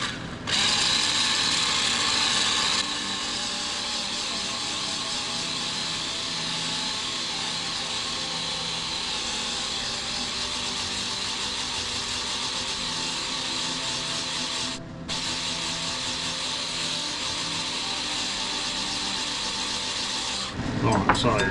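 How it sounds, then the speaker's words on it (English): Egg whites with a bit of yolk in them being whisked for a lemon meringue pie, a steady, continuous scraping whir that runs unbroken for about twenty seconds with only a brief dip partway through. "The egg whites with a bit of yellow in it, we're going to whisk"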